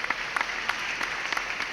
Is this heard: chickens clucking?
no